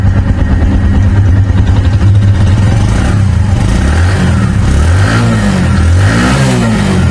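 A Bajaj Platina 100cc motorcycle engine idles loudly up close with a steady throb, then revs up and down in several rising and falling swells.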